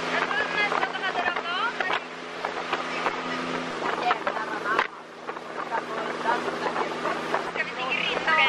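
A boat travels through the Stockholm archipelago with a low steady engine hum and wind buffeting the microphone, while people talk over it throughout.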